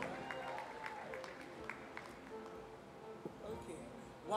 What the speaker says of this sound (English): Applause one more time for Aproko Doctor.